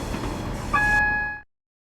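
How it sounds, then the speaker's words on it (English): Railway AWS warning horn in the Train Simulator 2020 video game, set off by a track ramp ahead of a signal: a steady, close two-tone horn sounds for under a second over low cab rumble, then everything cuts to silence. "The first AWS has been triggered for the signal ahead."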